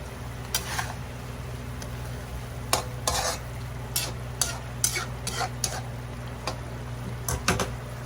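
Potatoes are tipped into a pan of chicken and fry with a soft steady sizzle, while a utensil scrapes and clanks against the pan in repeated short strokes.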